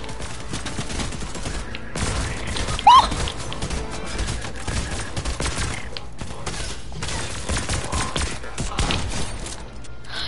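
Shotgun fire in a video game, with loud, dense bursts of blasts and crashes packed over a busy continuous mix of game sounds.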